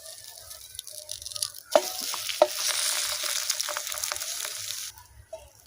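An egg frying in a pan is flipped over to cook its other side, with a steady close sizzle that swells after two sharp knocks of the turn and then eases off.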